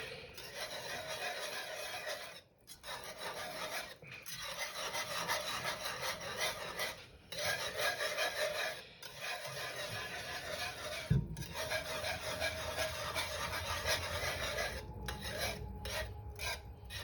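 Sausage gravy made with milk being stirred steadily in a pan, a continuous scraping and rubbing of the utensil against the pan bottom with a few brief pauses, close and fairly loud with no talking.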